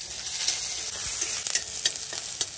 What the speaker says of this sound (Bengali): তেলটা গরম হয়ে গেছে, অল্প করে একটু পেঁয়াজ দিয়ে দিচ্ছি